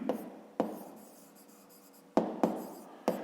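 A pen scratches out a math solution on paper, close and soft, with short strokes and sharp taps spaced irregularly, no voice.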